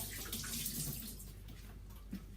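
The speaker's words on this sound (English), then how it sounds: "Let me just wash my hands really quick there," Hands are washed under a running kitchen tap: a steady close rush of water that softens a little partway through, with faint splashes and no talk.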